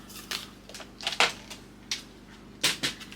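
A handheld paper trimmer slices a small square of patterned scrapbook paper in half, producing a series of short, crisp scraping and clicking strokes, close and clear, with no talking.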